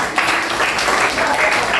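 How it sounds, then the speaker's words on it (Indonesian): Applause from a classroom of children, dense continuous clapping from many hands, close and fairly loud, lasting under two seconds. "Tepuk tangan dulu ya."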